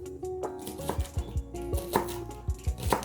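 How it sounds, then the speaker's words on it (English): A knife chops spring onions on a cutting board for a Ghanaian okra fish stew, giving a quick series of about ten sharp, close thuds in an uneven rhythm, with no talk. "I'm gonna go ahead and start on cutting the spring onions first"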